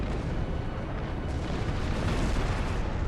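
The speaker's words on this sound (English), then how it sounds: "That explosion's bad." Sustained heavy explosion rumble in the Star Trek Online space combat game, a continuous loud roaring blast with deep booming bursts filling the whole stretch, no voices over it.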